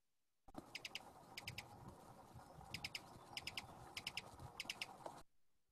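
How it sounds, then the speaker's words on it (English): Bursts of rapid, high chittering bird calls at Guantanamo Bay repeat in quick clusters over a steady low background rumble, fairly close and clear. "they were always noisy and just kind of chittering around"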